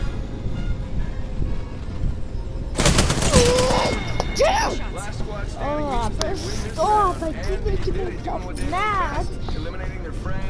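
Gunfire in Apex Legends: an abrupt loud burst of shots hits after a quieter stretch, followed by ringing tones and further scattered shots, with game chatter around them.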